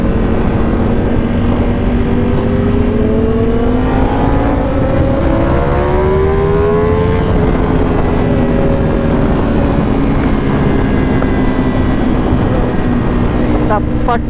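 A Ducati Panigale V4S motorcycle engine revs at full throttle on the road, its pitch sweeping upward in steady climbs, heard close under heavy, constant wind rush.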